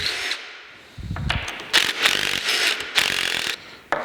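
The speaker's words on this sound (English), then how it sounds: "pull these screws back out" Screws are backed out on a LeBlond lathe three-phase motor during a bearing replacement. Close ratcheting clicks and grinding mechanical bursts come in several uneven spurts with short pauses between them, and no one speaks.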